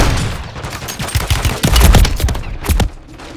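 Gunfire in Call of Duty Warzone comes in loud, close bursts of rapid shots, peaking in a dense volley before tailing off.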